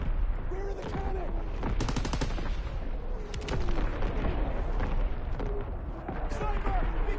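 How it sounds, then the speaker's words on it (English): Division artillery fires in a war video game, heavy booms and repeated gunfire crackling through a dense battle soundscape, with voices shouting over the noise. "Firing division artillery"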